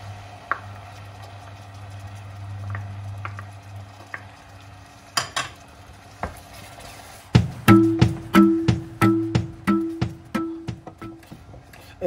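Chopped red pepper sizzles in melted butter in a pan, a soft steady frying hiss broken by repeated clinks and scrapes of a utensil stirring against the pan.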